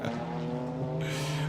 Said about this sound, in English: you just heard the car bogged down there on the exit